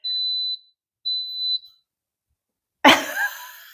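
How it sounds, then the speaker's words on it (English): Two high electronic beeps from a GreenPan Elite electric pan preheating, the second a double chirp, followed after a pause by a sharp clatter or thud close by. "Elite, beeping at me."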